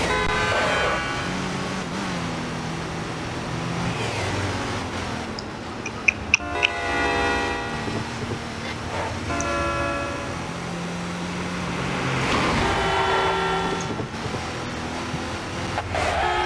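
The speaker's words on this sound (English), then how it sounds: "That was real close to the train as well." A train rumbles past during a street race in Midnight Club 3: Dub Edition, its horn sounding in long tonal blasts over a car engine and road noise, with a couple of sharp knocks midway.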